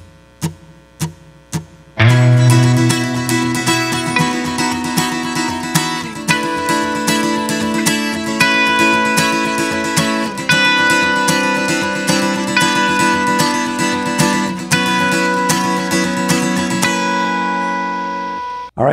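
A few sharp muted plucks, then acoustic and electric guitars strum the chords of a song together, loud and steady, ringing out to the end.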